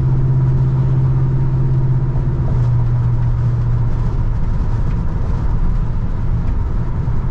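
A 1971 Chevrolet C10 truck driving on the road, with a continuous close engine drone and road rumble that shifts slightly in pitch partway through, steady and loud with no voices.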